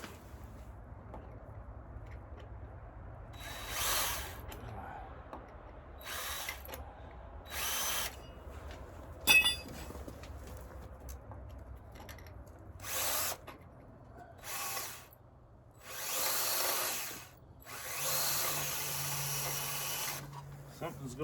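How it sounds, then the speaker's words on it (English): Several short bursts of a power drill whirring, spaced apart with pauses between them, close by, the last bursts longer. "Something's going on with my drill bit."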